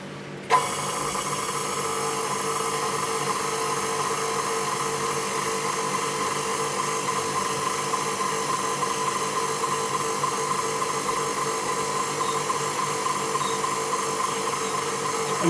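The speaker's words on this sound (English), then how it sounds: "So I have my sausage stuffer going up" An electric sausage stuffer runs with a steady, loud, unbroken motor whine, starting abruptly and holding evenly while traditional British bangers are stuffed.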